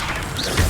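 A Levioso spell cast in Hogwarts Legacy lands as a brief magical crash with a mechanical clatter, short and fairly loud.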